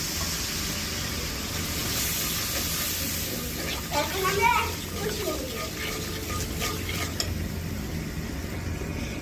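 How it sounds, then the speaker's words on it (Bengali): Malabar spinach (pui shak) sizzles steadily in a pan, with a brief splash and burst of louder hissing partway through as water is poured in. "আর সাথে একটু পানি দিয়ে দিচ্ছি।"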